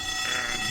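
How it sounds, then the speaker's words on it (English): A fire alarm in the video game The Longest Journey rings as a steady, dense electronic buzzing tone that fills the whole moment at constant loudness. "So now that we've set off the fire alarm,"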